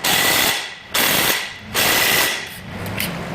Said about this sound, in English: We'll start with a ratchet